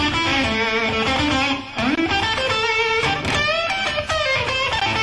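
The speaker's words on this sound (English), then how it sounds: "There's also the blues pentatonic scale, which is pretty popular amongst rock players." A distorted electric guitar runs through an A blues pentatonic scale with bends and vibrato, a steady dense melodic line played alone.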